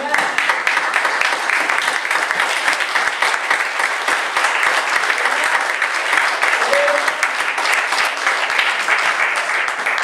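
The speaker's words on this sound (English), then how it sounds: "let us give them an applause and thank God for them" A church congregation at a men's day service applauds steadily for ten seconds, a dense, loud wash of many hands filling the room with a few voices mixed in.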